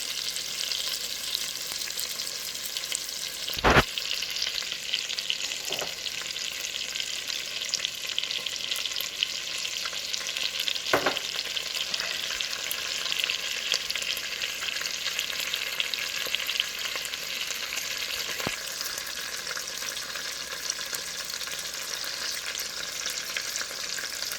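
Butter sizzles in a pan before chicken is seared for soup, a soft continuous hiss with a few sharp pops and crackles scattered through it.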